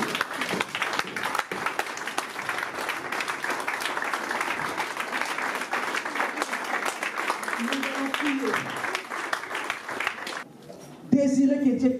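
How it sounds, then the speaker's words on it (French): A church congregation breaks into sustained applause, a dense wash of clapping that holds steady for about ten seconds before thinning out, followed by a brief voice at the end. "Acclamons pour la parole."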